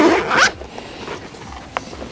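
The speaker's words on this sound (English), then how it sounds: "you've got 2 nice zipper pulls here." A zipper on the front of a Think Tank Photo Spectral 15 camera shoulder bag is pulled open in one quick, close rasping sweep lasting about half a second, followed by quiet handling with a faint click.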